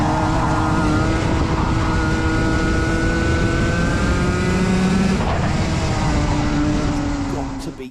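Race car at Yas Marina circuit, engine held near full throttle with a loud, continuous high-pitched whine and steady harmonics throughout, slightly shifting pitch mid-way, with commentary talk mixed underneath.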